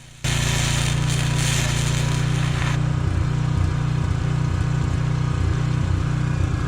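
A generator powering an arc welder kicks on just after the start and then runs steadily, a loud, constant droning engine hum with a faint pulsing rhythm and no talking.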